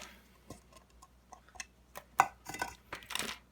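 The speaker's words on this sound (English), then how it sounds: "Adding the gravel to weigh the thing down and for beneficial bacteria" Wet aquarium gravel is dropped into a sponge filter cup for a betta, making a scattered series of small, faint clicks and ticks that grow busier toward the end, with no talking.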